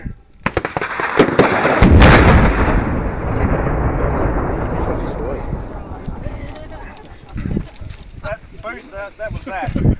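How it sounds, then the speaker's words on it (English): An explosive booster blasts a Coke can set on a steel plate, giving a sharp, loud detonation that rolls into a long rumbling roar and debris rattle, with voices talking over the fading noise near the end. "So a Coke can on a steel plate makes quite a racket."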